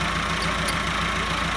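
A Massey Ferguson 375 tractor engine idling nearby with a steady, loud, continuous rumble that does not change across the short stretch.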